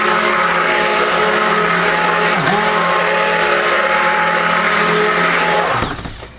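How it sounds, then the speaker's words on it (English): A stick blender whirs steadily while mixing oatmeal, milk and honey soap batter, a loud continuous motor hum that dips briefly and then winds down to a stop at the end. "This is awesome stick blender."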